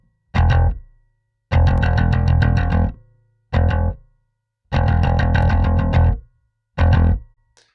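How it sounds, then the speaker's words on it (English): Guitar DI signal run through a distortion effect in a studio mix, heard as five loud, thick distorted chord bursts alternating short stabs and sustained strums, separated by silent gaps. "It just gets instantly thicker, and then it goes into the distortion."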